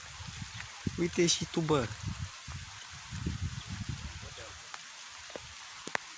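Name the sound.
heavy rain and floodwater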